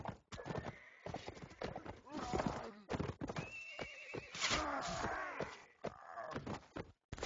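In a multiplayer video game match, a horse clip-clops at a gallop and gives loud neighs and whinnies, mixed with busy game sounds and a commentator talking over it.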